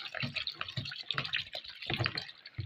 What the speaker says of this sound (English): I'm pouring in my alcohols.